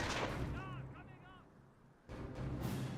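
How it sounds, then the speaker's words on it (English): Grenade bursts in Company of Heroes 1 as Grenadiers throw at enemy riflemen, loud booming impacts at the start and again near the end, with a quieter lull and faint game effects between. "Grenadiers throw a grenade."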